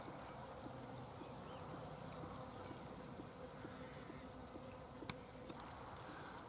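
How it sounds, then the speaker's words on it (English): Bees hum around a garden pond on an allotment during rain, a faint continuous buzzing drone with occasional louder passes and light ticks, quiet and without talk. "Even as it's raining, the bees aren't letting up."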